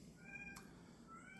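A cat meows indoors with a faint, thin, drawn-out cry, repeated softly over a quiet room background with one brief tap.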